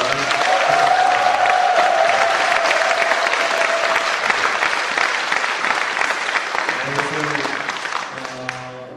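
Sustained applause from a church congregation at a 40th-anniversary ordination service, dense and steady throughout, with a held tone and music-like sounds entering near the end.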